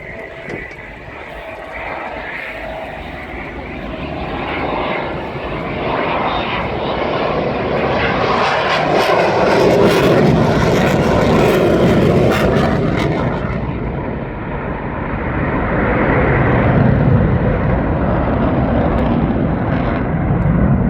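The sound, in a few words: C-130 aircraft landing at air show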